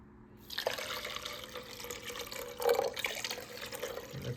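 Water runs steadily from a tap into a pot for a lion's mane mushroom tincture, a continuous splashing fill with a brief louder surge partway through, close and alone.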